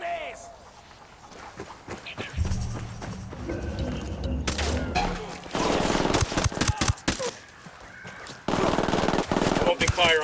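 Gunfire in the Ghost Recon Wildlands video game: sharp bursts of shots break out over the game's ambience, with dense rapid volleys in the latter half and a voice talking over parts of it.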